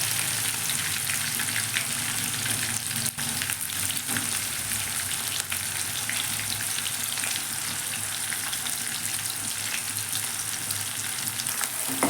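Onion and green chillies fry with cumin in hot oil, giving a loud, dense, continuous sizzle that holds steady from start to finish with a few brief knocks, no one speaking.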